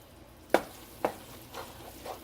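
Taco meat filling stirred in a moist pan gives soft background sizzling, broken by three or four spaced scraping strokes, the first two sharper and louder.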